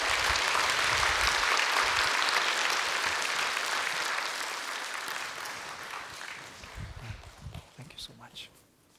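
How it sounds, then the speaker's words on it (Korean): Church congregation applauds to welcome two pastors, dense clapping that gradually fades over several seconds into scattered claps and light movement, with some talk audible. "우리 두 분 목사님 나오실 때 우리 큰 박수로 한번 환영했으면 좋겠습니다."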